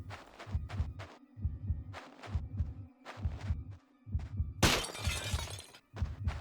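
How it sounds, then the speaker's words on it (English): A glass picture shatters in the video game Manhunt, one bright crash about two-thirds through, set against a steady, pounding heartbeat-like throb that repeats in a slow rhythm. "All of Starkweather's various cat pictures can be broken for a glass shard."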